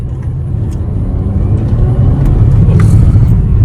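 Mercedes-Benz C250 AMG W204 sedan engine accelerating in sport mode, a steady, loud low rumble and rising whir that builds in intensity over a few seconds, heard from inside the car with no talk.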